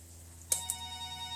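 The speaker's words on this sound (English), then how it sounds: "excuse the phone that's ringing" A telephone gives a short, faint double electronic ring, two chirps close together, far in the background over a low steady room hum, with no talk.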